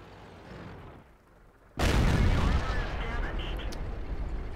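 A tank cannon fires with a sudden heavy boom in a World of Tanks battle involving a KV-3, the blast rumbling on for seconds after a quieter stretch of engine noise, while a player talks over it.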